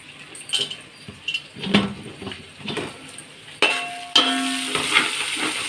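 Ginger garlic paste fries in a pan for mutton biryani, with scattered clinks and scrapes of a spoon on metal, then a bright, steady sizzle that swells louder partway through.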